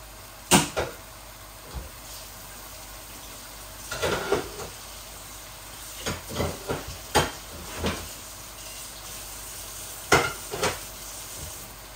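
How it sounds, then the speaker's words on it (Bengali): Ready-made mixed vegetables of sweet corn, carrot and beans fry in a pan for chicken biryani, with a low steady sizzle broken by several sharp clinks and scrapes of a spoon stirring against the metal, close up and without talk. "ভেজিটেবলগুলাও দিয়ে দিব, তো ভাজা ভাজা হয়ে যাবে।"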